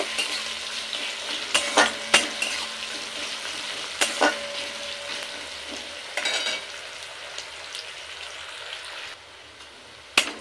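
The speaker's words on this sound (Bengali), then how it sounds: "পেঁয়াজটা একটু লাল করে ভেজে নেব।" Onions browning in a pan for a potato and shrimp curry sizzle steadily up close while a spoon scrapes and stirs in repeated sharp strokes, with no voices over it.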